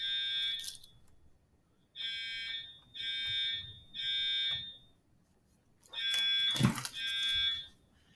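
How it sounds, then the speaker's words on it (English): A fire alarm sounds in a classroom during a maths lesson: five loud, high-pitched electronic buzzing blasts of about a second each, separated by short gaps, with a brief clatter during the fourth. "false fire alarm"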